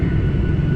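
Steady low rumble of engines inside a Norwegian Boeing 737-800 cabin as it taxis toward the terminal, a continuous droning hum with no voices.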